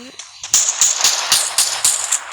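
Rapid bursts of gunfire from the video game Free Fire, a series of sharp repeated shots in quick rhythm, loud and close, with game sounds between them.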